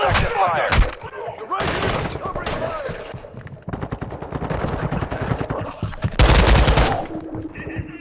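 Loud, close machine gun fire in a first-person shooter video game, with sustained rapid bursts and several heavier blasts, under scattered radio-style voice lines.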